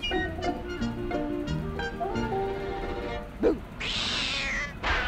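A cat meows within a children's rhyme track, with tuneful tones running through the first few seconds and a brighter, hissing burst near the end.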